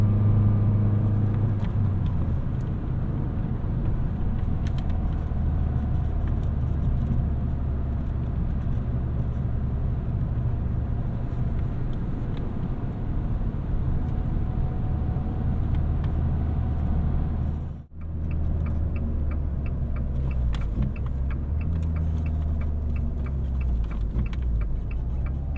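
Four-cylinder engine of a 2018 Fiat 500 Pop heard from inside while driving, a steady low rumbling drone with road noise that briefly drops out for a gear change near the end before resuming.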